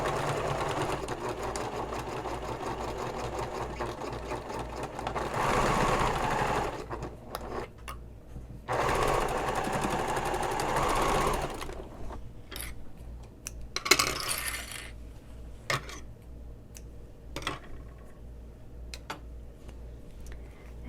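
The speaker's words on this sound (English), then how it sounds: "Just like before, we're sewing forward, back, forward over the connector." A domestic sewing machine stitches forward, back and forward again over a thick ring connector on a messenger bag strap. The motor whirs in several close bursts with short pauses between them, and small clicks and taps fall in the gaps.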